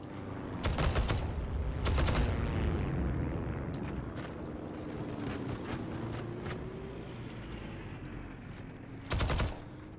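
Bursts of gunfire in the Heroes & Generals shooter, a couple of sharp shot clusters early and another near the end, over steady engine-like rumble and scattered distant shots, with no talk.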